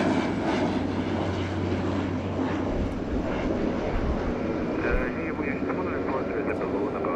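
British Airways jet on a north departure at Los Angeles International Airport: continuous engine rumble with a low drone that drops away partway through, heard under a talking voice with wind.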